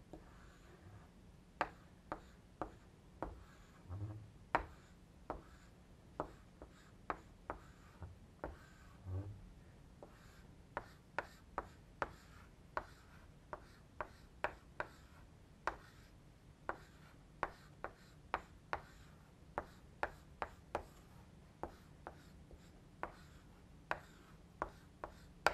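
Writing out complementary base pairs produces a series of faint, evenly spaced taps and short strokes, like chalk or marker on a board, repeating throughout over a low steady hum with no talking.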